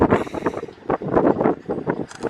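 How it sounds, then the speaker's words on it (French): Strong gusts of wind buffet the microphone beside a 1010-horsepower hypercar prototype, a loud, uneven rumbling roar that swells and dips throughout. "il y a un peu trop de vent ici."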